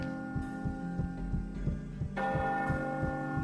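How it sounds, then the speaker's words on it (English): A bell tolls near the exit in the video game Gauntlet Dark Legacy, ringing in a steady slow rhythm of repeated low strokes under a sustained hum that brightens partway through. "the bell tolls when you're close to the exit"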